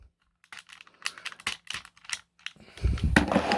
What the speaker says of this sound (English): let's just start undoing the panels